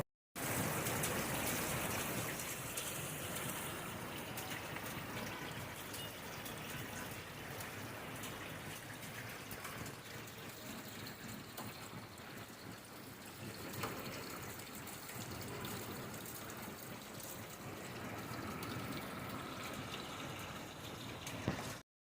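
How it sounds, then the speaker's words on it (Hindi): Small hail falls on a tin roof during a cold snowy spell in Nainital, making a dense, steady patter that stays soft and fairly distant, with a louder start and slight swells along the way. "तो आवाज़ आपको आ रही होगी कि बजरी पड़ रही है।"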